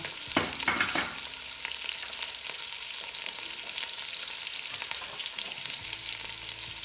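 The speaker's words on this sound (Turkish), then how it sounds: "Şimdi etlerimizi tamamen mühürledikten sonra soğanlarımızı ilave ediyoruz taban kısmına." Onions go into a pot over seared meat for Turkish dry bean stew, with a steady loud close sizzle and frying crackle throughout, a few stirring scrapes near the start, and no talking.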